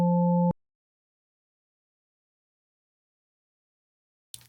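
Serum synth sine bass with added harmonics sounds as a single half-second pure low tone with faint upper partials, then cuts to silence before a brief quiet noise at the end.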